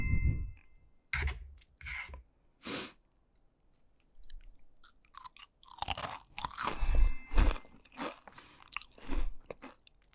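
Spicy nachos crunched and chewed up close, with sharp bursts of crackling bites and wet chewing in an irregular rhythm between quiet pauses.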